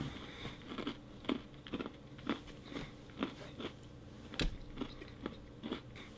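Repeated crunchy bites into a crisp vegan chocolate bar with crisps in it, close up, each bite a sharp crackling snap followed by brief chewing, about a dozen in a loose rhythm.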